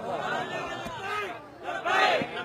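A crowd chants slogans together in rising, rhythmic bursts at a religious gathering led by Allama Khadim Hussain Rizvi, the massed voices swelling loud near the end.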